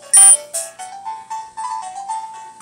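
Phone notification ringtone playing loud and clear, a bright opening chime followed by a short rising chain of tones, alone with no talk.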